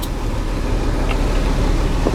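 A water truck's engine runs at a steady, close rumble with no audible change in pitch, and no one speaks.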